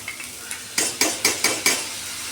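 Mixed sprouted pulses being sautéed in a pan, a soft sizzle under a run of five or six evenly spaced stirring scrapes, close and fairly quiet, with no talk.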